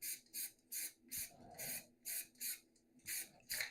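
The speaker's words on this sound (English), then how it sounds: "And this I need to still spray paint." A spray paint can sprays primer onto a pair of glasses in a fursuit workshop: about ten short, even bursts of hiss in a steady rhythm, close and fairly quiet, with no voices.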